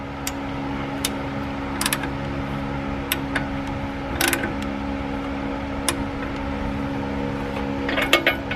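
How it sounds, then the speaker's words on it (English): Socket wrench working on the upper control arm of a 1997–2002 Ford F-150 RWD: scattered sharp ratchet clicks and metallic ticks, some in quick bursts, over a constant low hum. "I'm going to use a socket wrench to turn that, and then it should"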